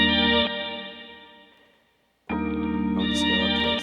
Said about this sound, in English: if you want it to sound a little more dreamy, then we could add like reverb